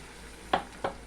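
Aloe vera juice poured into hot herbal hair oil gives two short hissing sizzle bursts, close and fairly quiet, over a faint steady background.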